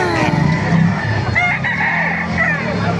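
A rooster crows close by at a poultry gathering in Baliuag, Bulacan, a loud drawn-out call with other fowl clucking around it and faint voices in the background.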